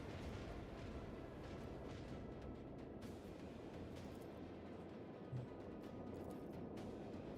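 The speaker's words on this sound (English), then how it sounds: "Macro cannon, volley." Macro cannon volley in a space warfare video game, heard as a continuous distant rumbling roar of heavy booming fire with faint bursts, steady and muffled throughout.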